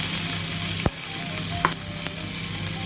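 Mustard seeds, cumin, curry leaves and ginger paste sautéing in a pan for a brinjal fry masala, a steady close sizzle with a few sharp scrapes and taps of the stirring spoon.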